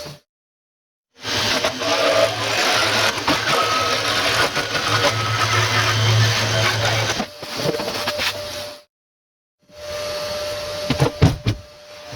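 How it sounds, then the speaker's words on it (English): A jigsaw cutting King StarBoard sheet for boat boxes: loud buzzing motor bursts in three runs, the longest about six seconds, separated by silence and ending with a few sharp clunks, no voices. "Using jigsaw for this job."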